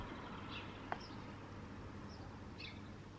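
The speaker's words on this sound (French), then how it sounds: "Écoute les oiseaux." Faint bird calls outdoors, a few short chirps scattered over a steady low background hum, distant and quiet.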